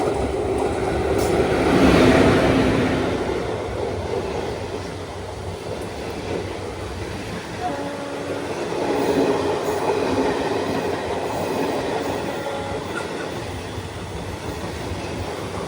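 Thiruvananthapuram–Rameswaram Amrita Express overtaking the Tiruchirappalli–Rameswaram Express, a loud rumbling rush of carriages passing close by with rhythmic wheel clatter that swells, eases, then swells again, with faint squealing tones and no voices.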